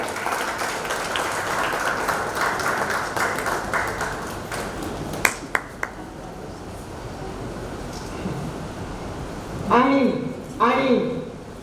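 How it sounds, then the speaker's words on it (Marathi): Audience applause at a literary prize ceremony: dense clapping for several seconds, then fading into quieter room sound, followed by a few sharp taps and a voice speaking near the end. "हा तर सुलभा त्यांच्यासाठी एकदा टाळ्या जोरदार."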